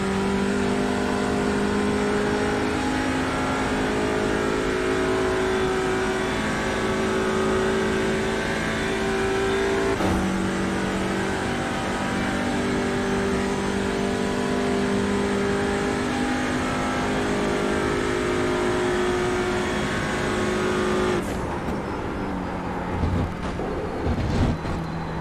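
A TCR race car laps Watkins Glen, its engine droning loud and steady up close from a cockpit-like view. The revs rise and hold in long pulls, then the engine drops off sharply near the end, as though lifting for braking.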